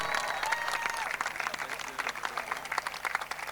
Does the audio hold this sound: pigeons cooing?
no